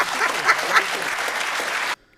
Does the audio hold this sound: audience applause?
yes